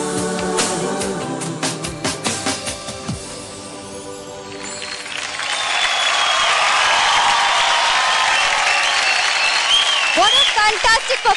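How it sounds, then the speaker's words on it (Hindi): At a televised dance competition, singing with music gives way to a loud, sustained wave of audience applause and cheering for dancer Kunwar, swelling and continuing to the end. "जोरदार तालियां कुंवर के लिए"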